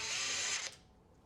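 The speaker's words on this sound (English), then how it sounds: "you need your Phillips drill bit. We're gonna remove this Phillips screw." A power drill fitted with a Phillips bit backs out a Phillips screw from a Bosch induction cooktop, giving a brief, close, steady whirring buzz that cuts off sharply partway through.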